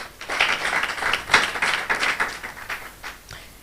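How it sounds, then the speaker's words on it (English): An audience at a university public lecture on gender-based violence gives a short round of applause, a close, uneven patter of clapping that swells and fades over a few seconds, with no talking. "Now I want us to put together a round of applause for Dr. Ngabirano Ruth."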